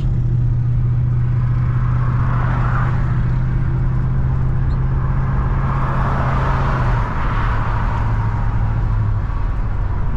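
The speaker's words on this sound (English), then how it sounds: "We have to roll the window back up, all that road noise." A steady, loud roar of road noise and engine rumble fills the cabin of a car moving at about 70 with a window down, with a low drone and rushing wind, no voices.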